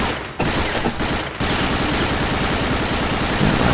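Sustained, loud machine gun fire in a video game, a continuous rattling stream of rapid shots with two brief breaks early on, then unbroken to the end.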